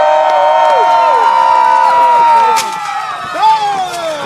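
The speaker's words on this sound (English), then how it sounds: "Let them hear you cheer!" A crowd at a medieval fair jousting match cheers loudly, with sustained shouting and tonal voices that stay strong before dropping off partway through, followed by a brief burst.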